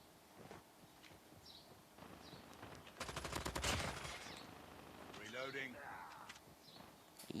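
Gunfire in the video game Call of Duty, a burst of rapid shots around the middle with scattered single shots, heard under steady talking voices.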